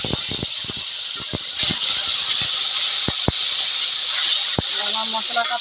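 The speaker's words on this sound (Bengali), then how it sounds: "এখন আমি ভালো করে ভেজে নেব মশলাটাকে।" Spice paste of ground onion, chili, ginger, garlic, cumin and turmeric sizzles steadily in a hot pan, a loud continuous hiss that swells partway through, with occasional sharp pops and spatters.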